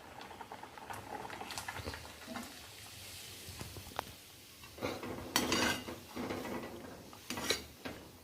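Drumstick leaf and lentil kootu simmering in a pot, with soft bubbling and patter under occasional clinks of a utensil against the pot, some louder bursts midway.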